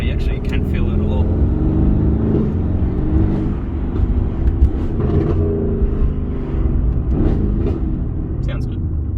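Engine of a Mercedes-AMG GT R accelerating, a steady loud low rumble heard from inside the car throughout, with occasional voices over it.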